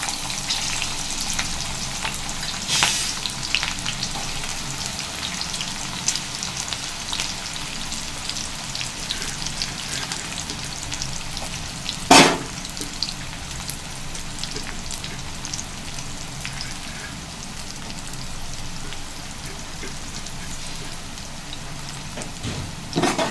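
Onions sizzle in a pan for a chicken liver fry along with slit green chili, a steady crackling hiss with scattered pops, close and continuous with no voices, one sharp spike midway.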